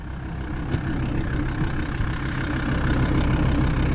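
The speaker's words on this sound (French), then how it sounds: "Et il y a une putain de grosse fuite d'échappement quelque part." The engine of a wrecked vehicle idles continuously with a heavy, rough low rumble and a big exhaust leak that adds a raspy, sputtering edge, loud and close throughout.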